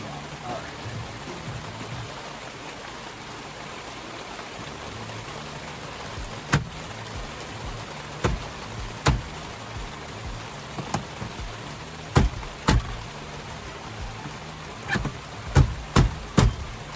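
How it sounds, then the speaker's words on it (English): Rain pours down around a 2010 Mercury Grand Marquis during a repair, a steady wash of hiss punctuated by sharp, louder drips and taps in the second half, with faint voices underneath. "now that it's pouring down rain"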